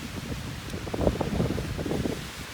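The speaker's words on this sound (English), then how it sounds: "It's so windy, God." Strong wind gusting across an exposed limestone mountain ridge on a winter day hike in the Rockies, a steady close buffeting roar with microphone rumble and no talking.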